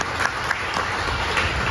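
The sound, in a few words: audience applauding at drag show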